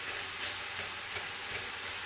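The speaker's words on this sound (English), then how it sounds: "you may be able to hear that got the onions in. Nice little sizzle going." Onions sizzling in oil in a pan with mushrooms, a steady broadband hiss and crackle that runs close and even throughout, with no voices.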